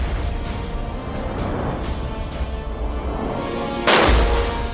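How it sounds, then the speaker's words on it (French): A huge explosive detonation goes off as one sudden, loud, deep blast near the end, following several seconds of low rumbling background noise. "C'était vraiment une détonation à tout casser."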